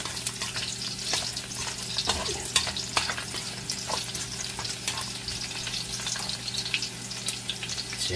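Garlic frying in a pan for vegetarian chopsuey gives a steady, close, continuous sizzle and crackle at even loudness, heard alone without talk.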